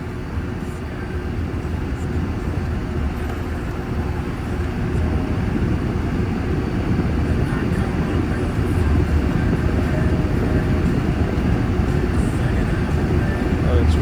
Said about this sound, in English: let's test out the AC